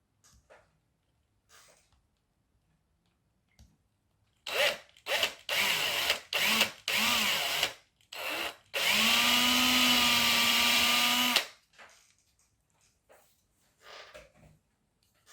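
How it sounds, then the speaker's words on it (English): A power drill whirs in several short bursts, then runs in one long steady grind through wood, close by, with quiet pauses before and after. "I'll use the bigger drill bit straight away."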